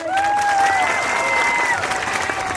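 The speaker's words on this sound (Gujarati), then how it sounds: "એવા હજારો કાર્યકર્તાઓ માટે એકવાર જોરદાર તાળીઓ થઈ જાય" A crowd of audience members claps loudly and steadily in sustained applause for party workers at a public gathering, with a few faint voices and cheers mixed in.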